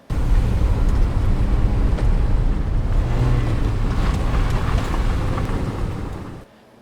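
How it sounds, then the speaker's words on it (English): A car rolling slowly up onto gravel, a continuous close crunching rumble of tires on loose stones that fades out as the car stops. "That was the car rolling up on some gravel"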